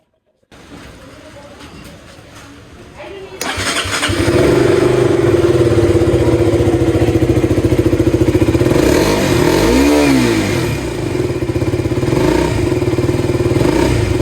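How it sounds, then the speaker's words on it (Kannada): A KTM RC200 motorcycle with a 22-horsepower engine starts up close by, then idles with a loud, steady chugging beat, and the engine pitch rises and falls once mid-run as it is revved. "ಇದು ನನ್ನ KTM RC200 22 ಹಾರ್ಸ್ ಪವರ್ ಇರೋ ಇಂಜಿನ್ ಇದು"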